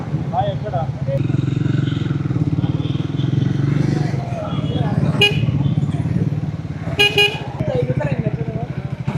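A Kawasaki ZX6R motorcycle rumbles nearby with a steady engine drone while people talk over it, and short horn toots sound on the street around it.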